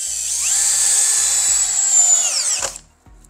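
A FortG brushless drill-driver bores a hole into wood with a fine wood bit. It gives one loud, close, high-pitched whine that holds steady for over two seconds, then winds down abruptly. No one speaks.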